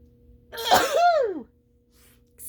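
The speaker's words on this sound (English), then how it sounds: "I feel like I'm going to sneeze." A single sharp, loud sneeze from a woman with spring allergies, a quick burst with a falling tail, followed by quiet.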